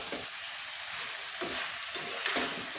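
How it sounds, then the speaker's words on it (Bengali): Chicken pieces with potatoes and ground dried chili paste frying and being stirred in a pan, a steady close sizzle with a few louder scraping stirs, no talking. "আমি মুরগিটা ভালোভাবে কষিয়ে নিতেছি"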